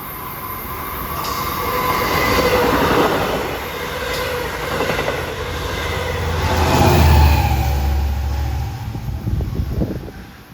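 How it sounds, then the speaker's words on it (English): A Long Island Rail Road commuter train, Port Jefferson to Long Island City, rumbles past close by at Forest Hills station, wheels clattering rhythmically with a swelling roar and a low horn-like tone before easing off. "here comes train 617 from Port Jefferson to Long Island City"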